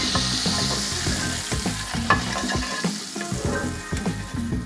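Lemon juice hits hot butter in a pan beside cooked fish, giving a bright, busy sizzle and crackle, close and loud, with bursts of spattering and scraping from stirring throughout.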